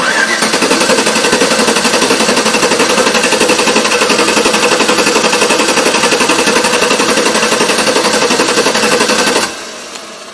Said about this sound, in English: I'm going to crank it over and have a look at the valve movement